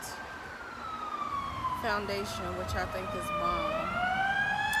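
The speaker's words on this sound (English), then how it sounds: "Sorry for the sirens." A wailing siren rises and falls steadily in the background, moderately distant, while a person talks over it nearby.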